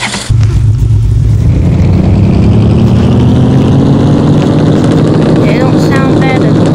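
An old, rusty Dodge running in a garage: a loud, close engine that starts up, then holds a steady rumbling idle with a rising drone and rattly overtones, with a voice speaking over it.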